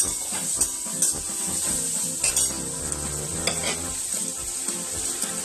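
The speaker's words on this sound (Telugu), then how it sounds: "క్యారెట్ కూడా మెత్తగా మగ్గితే ఉల్లిపాయలు కూడా చాలా గుజ్జులాగా ఇలా ఫ్రై అవుతాయండి." Carrots and onions frying with salt in a pan, a loud continuous sizzle with repeated scrapes and clinks of a utensil stirring against the pan.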